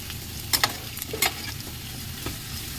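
Potatoes fry in a pan with a constant sizzle, and several sharp clinks and scrapes of stirring come in quick succession near the middle.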